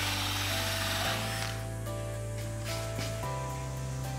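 A power drill fitted with a hole saw bores a hole through a wooden side panel for a wall-mounted bike rack, giving a loud, close, sustained motor whine whose pitch drops in steps as the saw cuts.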